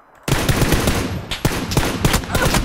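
Rapid automatic gunfire in PUBG, loud and close, with bursts of repeated shots and a few sharper reports standing out as the shooting continues without pause.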